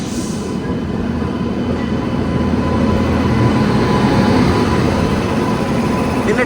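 The Howrah Kalka Netaji Express with LHB coaches passes close by, a loud, continuous roar and rumble of wheels on rails that holds steady and builds slightly throughout, with no voices.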